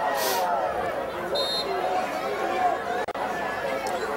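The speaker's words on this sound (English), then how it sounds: "Crowd calling for the field goal team" Crowd noise fills a high school football stadium during a 2007 playoff quarterfinal, Alcoa Tornadoes against CAK Warriors, a broad, steady murmur of many voices with brief whistle-like tones.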